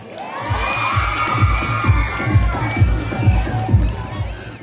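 An audience at a Ms. Gay pageant during a Philippine festival screams and cheers loudly and continuously, while pounding music beats run steadily beneath the crowd noise.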